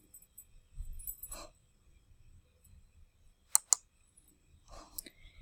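Computer mouse clicks during a PowerPoint screencast demo, a few sparse, quiet clicks with a sharp louder pair near the middle and low background murmur between them.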